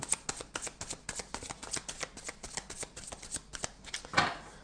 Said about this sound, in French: je passe mon temps à battre les cartes